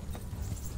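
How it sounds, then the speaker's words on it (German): Hooves clip-clop in a quick steady rhythm as a horse rides off in the medieval game Kingdom Come: Deliverance, close and muffled, lasting under a second. "So, rauf aufs Pferd und weg."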